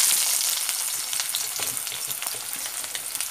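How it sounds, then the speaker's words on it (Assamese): Onions fry in hot oil for a chickpea curry, giving a steady, bright sizzle with crackling pops and light stirring, close and alone. "এয়া মই পিঁয়াজ দিছোঁ।"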